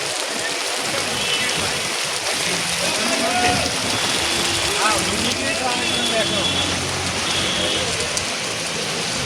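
Steady heavy rain pours down outside Churchgate station in Mumbai in a dense hiss, with faint traffic and distant voices underneath.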